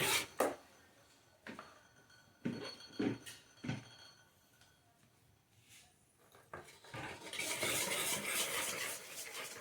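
Chocolate cake batter being mixed by hand in a bowl, with scattered clinks and scrapes of a utensil against the bowl, then a steadier rubbing, stirring wash toward the end, fairly close and alone.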